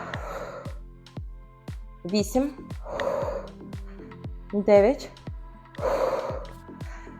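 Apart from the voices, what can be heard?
heavy breathing during a workout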